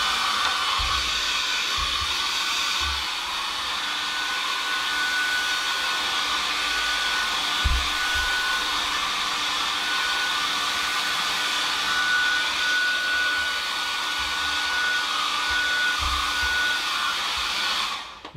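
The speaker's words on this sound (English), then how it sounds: "I'll give this a quick dry" An electric hair dryer blowing steadily over a watercolour painting, a loud, continuous close-up whir and rush of air that runs unbroken and then cuts off at the end.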